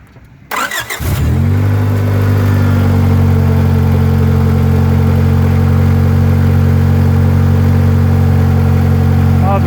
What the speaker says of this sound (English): we'll start the vehicle. Just ignore the exhaust leak.